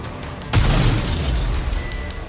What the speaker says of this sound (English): The explosions aren't stable.